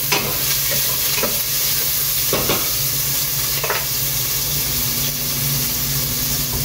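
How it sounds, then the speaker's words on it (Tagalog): Garlic frying in hot oil with a steady bright sizzle and crackle, broken by a few stirring scrapes, close and continuous with no talking. "Ibubo na nato ni siya sa oil."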